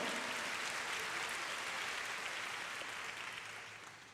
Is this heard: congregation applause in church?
yes